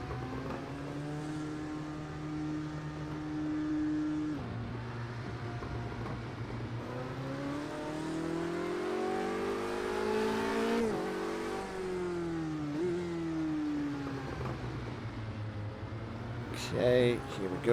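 A Formula Renault race car laps a snowy track, its engine droning steadily and rising and falling in pitch through gear changes and revving, with a whirring mechanical undertone throughout.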